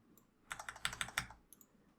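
Typing on a computer keyboard, a quick burst of about a dozen crisp close key clicks in an irregular rhythm, fairly quiet, with no talk.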